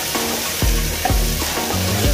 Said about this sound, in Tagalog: Igisa na rin yung ating kamatis.